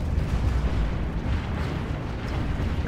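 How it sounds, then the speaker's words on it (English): Torpedo strikes in the space strategy game Stellaris make a continuous, loud roar of overlapping explosions that rumbles without pause for a few seconds, with no voices over it. "There go the torpedoes."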